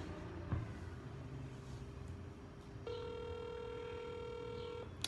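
A phone ringing through a speakerphone during an outgoing call: quiet room noise, then a clear steady electronic ring tone lasting about two seconds, fairly soft, with no talking over it.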